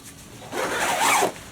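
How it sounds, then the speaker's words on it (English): Zipper on waterproof over-pants being unzipped, one close rasping pull that rises in pitch and loudness before stopping, on its own. "that zipper goes actually all the way. I can fully unzip these"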